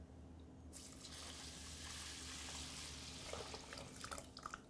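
Six cups of water pour steadily into a pot for grain porridge, a continuous splashing rush that starts abruptly and runs on at moderate level, close by, with a low background hum underneath.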